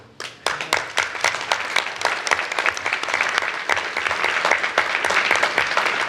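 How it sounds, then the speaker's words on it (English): Audience applause fills a plenary session hall at a governors' winter meeting on the opioid crisis, starting with a few scattered claps and swelling into steady, dense clapping from a large crowd that continues throughout. "that applause, by the way, was for the First Lady"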